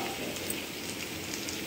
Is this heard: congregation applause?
no